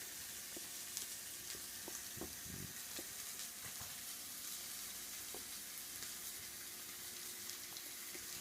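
Rib eye steaks sear in melted butter in a pan, giving a steady, moderately faint sizzle with a few soft clicks and knocks throughout, and no voices.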